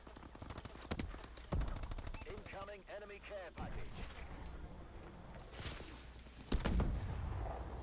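Gunfire in the Call of Duty Advanced Warfare multiplayer video game, with sharp rapid shots and automatic bursts over busy game sound, while a player talks excitedly over the action.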